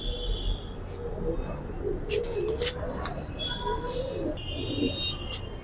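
Pigeons at a seller's loft, breeding birds from a collection of Giribaz and coloured pigeons, give low, soft cooing throughout against a steady background hum, with a faint murmur of voices.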